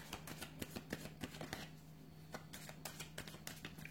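Tarot cards are shuffled close by in quick, papery riffles and soft taps that run in a loose rhythm from start to end, quiet and alone.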